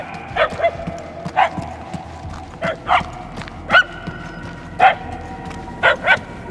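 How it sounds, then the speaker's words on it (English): A dog barks in Marvel's Guardians of the Galaxy video game, short, evenly spaced yaps, about eight of them, steady and moderately close, over a faint low background hum. "The barking is getting fainter."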